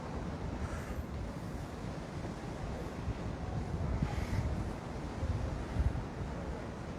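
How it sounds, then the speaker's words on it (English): Steady ocean surf washes onto a beach in Hawaii at sunrise, with continuous rumbling waves, a few louder breaks and wind buffeting the microphone. "Let's just give you a peek at the ocean just because we can."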